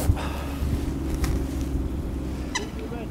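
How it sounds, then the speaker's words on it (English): Strong wind buffeting the microphone at Lindholme Lakes fishing lake, a constant low rumbling roar with brief gusty swells, loud and close, with no talk. "As you can see, it's becoming a right pain, this wind."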